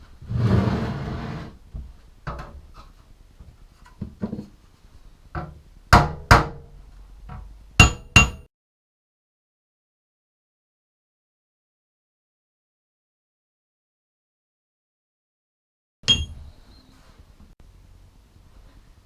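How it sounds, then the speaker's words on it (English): Ball peen end of a hammer striking a flat stainless steel block coated with POR15 paint, giving a few sharp metallic clinks after some light handling knocks, then silence and one more faint tap. "use this hammer block of flat stainless to impact each of the coatings using the ball peen end"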